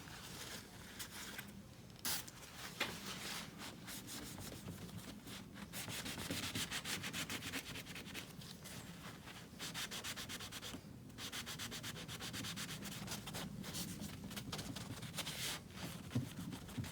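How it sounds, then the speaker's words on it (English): A rag rubs briskly back and forth over the badge area of a Ram truck, wiping off adhesive residue with Goo Gone in close, continuous scrubbing strokes with brief pauses. "Wipe that down."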